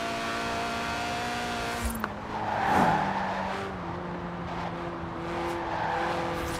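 Lotus Elise Sport 190 with a 1.8-litre engine in Forza Horizon 4, revving and shifting through gears with brief tire squeal, a steady engine drone rising in pitch at moderate loudness.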